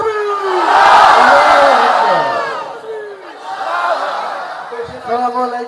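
A large crowd at a political rally roars the Takbir chant in unison, a loud swelling shout of many voices that rises, fades, then surges again with scattered individual calls.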